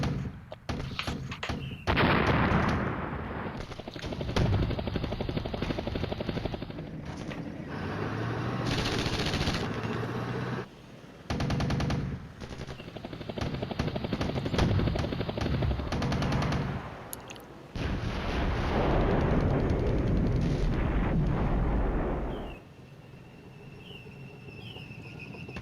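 Gunfire and artillery from the wargame Flashpoint Campaigns: Red Storm roar in long dense bursts of machine-gun rattle and heavy booms. The bursts are loud and continuous, broken by a few short gaps, with no speech.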